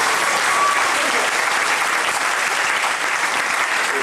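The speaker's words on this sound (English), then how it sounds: "let's give Jack a huge generous round of applause" An audience at a riverside swing event applauds for a participant, a continuous, even crackle of many hands clapping at moderate loudness with no break.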